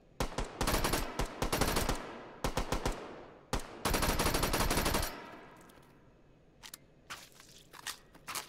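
Automatic gunfire from a weapon in the VR shooter H3VR, fired in rapid bursts and long sustained strings with short gaps between, loud and close, then trailing off into quieter scattered clicks and rustling.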